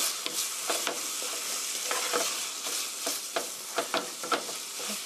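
Tomato meat sauce for an omelette is stir-fried in a pan. It gives a constant close hiss of frying, and sharp scraping stir strokes land every half second or so, with no talking.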